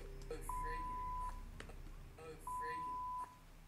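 Two steady electronic censor beeps, each lasting most of a second, sound about two seconds apart over a faint background hum.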